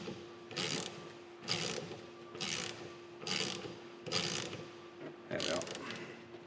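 Motorcycle chain breaker tool being turned to press a rivet out of a chain link: six regular, faint ratcheting clicks and creaks about a second apart, close up and with no talking.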